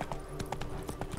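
Horse hooves clip-clop in a steady, evenly spaced gait in The Witcher 3, the game's hoofbeats close and clear with a faint background hum and no talk over them.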